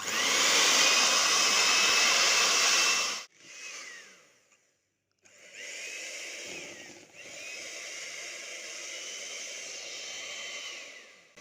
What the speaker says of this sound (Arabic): وهبدأ بقى اضربهم بالمضرب الكهربائي